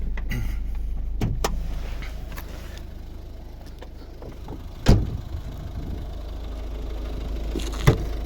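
A 2012 Volvo V50 with a 1.6 D2 Peugeot-Citroën single-cam eight-valve diesel idles at a steady low rumble, close by with the bonnet up. Sharp knocks and clunks cut in a few times over the engine sound.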